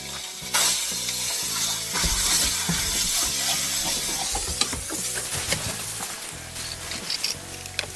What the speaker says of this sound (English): You gotta mash your ground sausage so you can make gravy out of it.